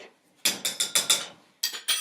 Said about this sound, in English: So we're gonna quickly mix all that up